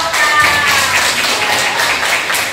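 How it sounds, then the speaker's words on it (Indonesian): A room of participants in an Indonesian teacher coaching session claps for Mbak Oka, a loud, steady burst of applause lasting a couple of seconds with no talking. "tepuk tangan untuk Mbak Oka"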